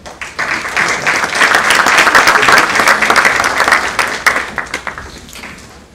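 An audience at a forum breaks into strong applause, dense clapping swelling quickly, holding loud and steady, then thinning out to a few scattered claps.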